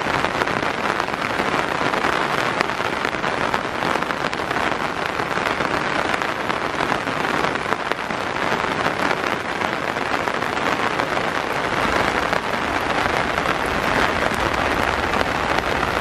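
Heavy rain from a super typhoon pours down steadily during a flood, a dense, unbroken roar of drops beating on surfaces, loud and constant throughout with no voices.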